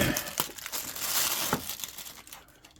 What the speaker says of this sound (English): we'll use the knife again to open up the plastic